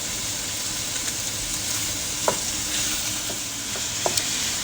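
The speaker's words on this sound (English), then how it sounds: "The meat goes inside, and we're gonna start taking the meat apart a little bit and cooking it" Ground meat, no pork, sizzles steadily in a pan for a Bolognese ragù sauce, with a few soft scraping stirs breaking the meat apart over the constant frying hiss.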